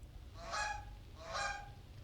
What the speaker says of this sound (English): Is that a goose? Hello, goose.